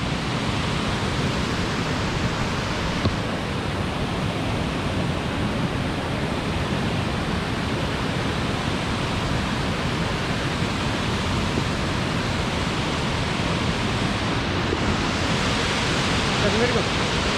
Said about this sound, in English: You see, you hear the sound of the waterfalls.